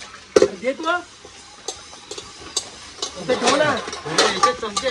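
Pots and dishes being scrubbed and handled, with scattered clinks and scraping under nearby voices chatting.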